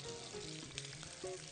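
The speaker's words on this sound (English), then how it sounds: "Still sizzling." Shrimp sizzle steadily in a hot pan in a restaurant kitchen, a dense continuous frying hiss with a few light clinks of utensils, no speech.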